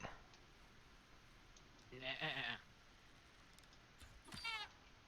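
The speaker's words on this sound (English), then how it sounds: "an alpaca. That's the noise he makes." An alpaca in a video game gives two short, wavering bleats a couple of seconds apart, fairly quiet over a faint steady game background.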